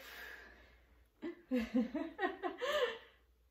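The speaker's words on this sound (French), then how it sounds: "Là, on entend sa respiration." Quiet rhythmic breathing with breathy, panting puffs that swell in a quick series after a brief lull, close and soft.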